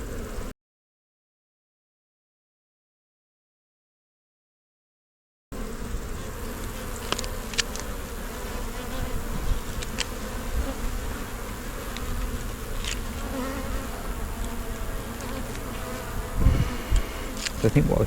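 Honey bees buzzing steadily around an open brood box packed almost full, a dense close hum with occasional louder passes of individual bees, after a brief silent gap at the start.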